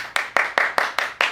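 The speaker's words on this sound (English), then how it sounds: "we give ourselves claps around here" Six sharp claps from a small group at an evenly spaced rhythm, close and crisp with silence between each clap.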